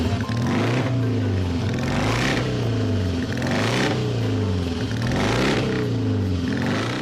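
A vintage BMW Type 225 Kompressor motorcycle engine revs loudly and steadily for several seconds, with pitch rising and falling in repeated surges up close.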